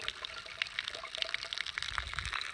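Spring water pours out of the outlet of a homemade spring box, a continuous close splashing trickle with irregular bright splashes and no talking.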